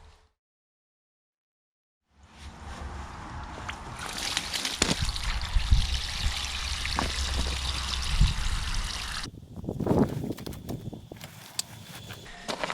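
Water drains and trickles out of a 100-litre sprayer trailer tank, a steady pour starting after a short silence, with some clanks and handling noises partway through.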